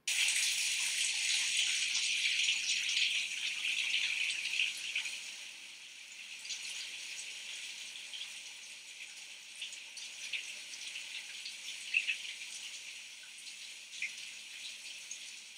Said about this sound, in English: So this rain is falling around the camera.